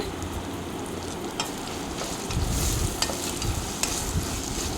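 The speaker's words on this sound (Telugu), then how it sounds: "ఇవి ఒక రెండు క్యారెట్లు అలాగే కొద్దిగా కరివేపాకు వేసి ఒక రెండు నిమిషాలు మీడియం ఫ్లేమ్ మీద వేయించాలి" Chopped carrots and curry leaves fry over a medium flame for egg pulao, giving a continuous close sizzle that swells partway through, with stirring scrapes and light taps on the pan and no speech.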